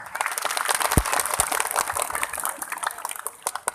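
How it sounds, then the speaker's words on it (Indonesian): Worshippers at a Nahdlatul Ulama manaqib dzikir gathering clap together in a dense, busy round of applause that goes on for several seconds, with a few louder claps standing out near the end. "Tepuk tangan."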